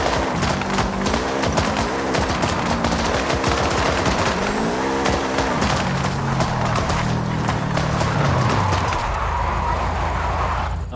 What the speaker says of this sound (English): let me just let you hear these crackling sounds and the popping.